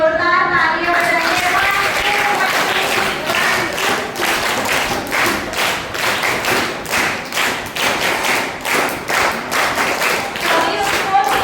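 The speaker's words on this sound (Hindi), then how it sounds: "डॉक्टर जी के लिए जोरदार तालियां बजाइए।" Children at a summer camp clap loudly for a doctor, a crowded burst of applause that grows into rhythmic, pulsing beats with a few cheering voices mixed in.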